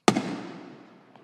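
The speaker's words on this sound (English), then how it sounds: "That's a high school doing that." A single firework explodes at a high school show, a sharp bang followed by a long rumbling decay that fades over about a second.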